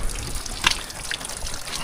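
Water trickles and pours continuously for washing sugar beets, a soft steady gurgling flow with one brief splash partway through.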